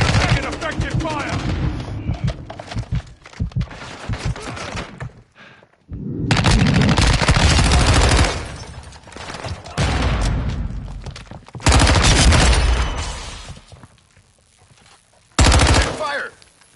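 Machine gun fire in the video game Modern Warfare II, loud bursts of rapid automatic shots lasting several seconds each, separated by brief quieter gaps, with a few booming thumps and faint in-game voices.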